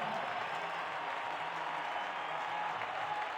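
Steady applause from a race-day crowd in the F1 Manager 2022 game, a dense, even wash of clapping that holds at a moderate, slightly distant level throughout without any talking.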